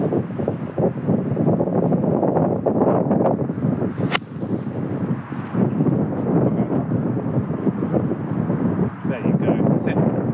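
Gusty wind buffets the microphone on a golf course, a constant low roaring rumble under someone talking throughout.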